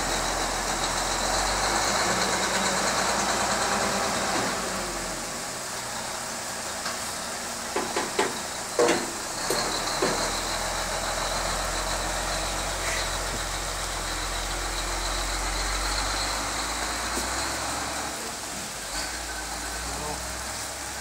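A log truck idles steadily with a deep low rumble, then pulls away, its engine noise continuing at a constant, fairly loud level throughout, with brief knocks and clanks partway through.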